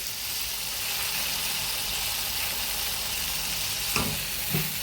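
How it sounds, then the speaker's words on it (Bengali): A homemade sweet sizzles in hot oil in a wok, a steady close-up frying hiss with a couple of brief stirring scrapes near the end. "তেলটা গরম করে নিয়েছি, আর এবার যে জিনিসটা তৈরি করব সেটাই এখন কড়ার মধ্যে দিয়ে দিয়েছি"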